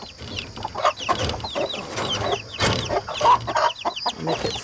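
Hens clucking in a coop, several birds making repeated soft clucks and chirps close by, with a few louder calls rising above a continuous low murmur.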